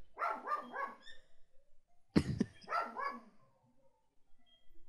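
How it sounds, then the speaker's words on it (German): A pet dog barks in quick bursts indoors, a run of three sharp barks followed after a pause by another cluster of barks, close and loud in an otherwise quiet room. "Ich muss meinen Hund kurz stillstellen"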